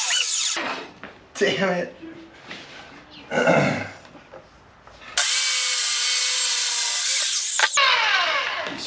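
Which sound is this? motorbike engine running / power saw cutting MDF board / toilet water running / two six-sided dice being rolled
power saw cutting MDF board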